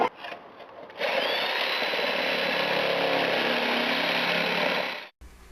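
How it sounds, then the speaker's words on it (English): A circular saw cuts through a wooden stair stringer, with a few seconds of loud, steady, high-pitched whining bite into the wood that stops abruptly, preceded by brief tool handling. "Then cut out the stringer with your circular saw and handsaw or reciprocating saw."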